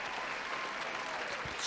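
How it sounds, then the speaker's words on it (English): Brief, steady applause from a group continues evenly, at a moderate level, before a faint bump near the end. "You guys can stop clapping"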